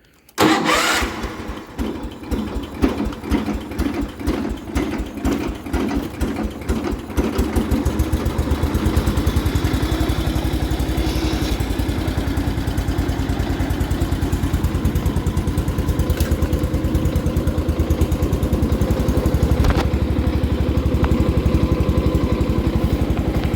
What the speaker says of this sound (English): So let's get this thing fired back up and take it out for a spin